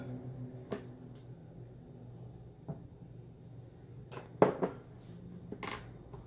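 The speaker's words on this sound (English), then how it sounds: "We can start to whisk it." Room-temperature unsalted butter being whisked in a mixing bowl, heard as sparse clinks and taps of the whisk against the bowl over a quiet background, with one sharper knock near the end.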